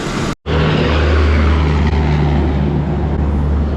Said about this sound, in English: I could just pull it apart, pull the wire off and crank it.